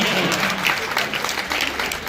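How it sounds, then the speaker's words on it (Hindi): An audience applauds at a retirement program held at a school, with dense, continuous crowd clapping at steady volume throughout. "आपकी जोरदार तालियां इन्हें व्यक्तिगत पार्टियां देने के लिए प्रेरित करेंगी।"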